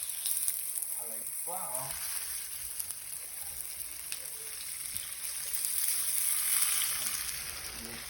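Tofu slices sizzle steadily while frying in a pan for Korean braised tofu, a loud continuous hiss throughout with a brief exclaiming voice early on.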